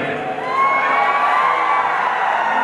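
Festival crowd at an outdoor stage show roaring and cheering continuously, a loud dense wash of voices with whoops rising over it throughout.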